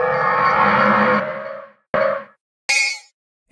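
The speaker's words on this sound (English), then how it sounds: "let's use the sound of a skeleton horse dying" The Minecraft skeleton horse death sound plays three times: first a long, strained groaning cry, then two shorter, sharp rasping bursts, each higher in pitch. The calls are clean and close, with silence between them and no talking.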